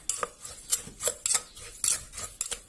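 A utensil clinks and scrapes against a bowl while shrimp sauce ingredients with sugar and lime are stirred, making a series of irregular metallic taps and rubs, close and fairly crisp, with no talking.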